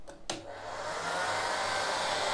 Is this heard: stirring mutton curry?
no